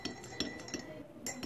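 A spoon stirring cumin powder into a glass gives light, quick clinks of metal against glass, several taps in an uneven rhythm, faint and close.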